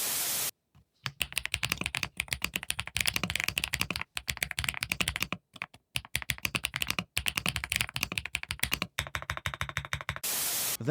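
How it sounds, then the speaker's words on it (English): Typing on a Gravastar K1 Lite keyboard: rapid, continuous key clacks close to the mic, in dense bursts broken by a few short pauses, with no voices. "But very quickly though, how does this keyboard sound?"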